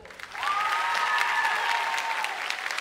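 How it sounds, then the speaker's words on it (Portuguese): A television studio audience bursts into sustained applause, a dense wash of clapping that starts suddenly and holds steady for a few seconds, with a faint tone ringing underneath. "Os aplausos do auditório para a Gabriela Palhacinha."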